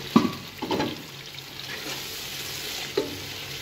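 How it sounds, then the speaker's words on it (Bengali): Sizzling in a hot pan as water is added to frying spices, with a few sharp hissing bursts near the start, then a softer steady crackle under occasional stirring. "এখন একটু পানি দিয়ে দেব।"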